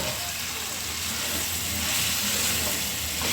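Chopped banana stem added with potatoes and spices to a hot pan fries with a steady, dense hiss, loud and close, continuous without pause and no voices.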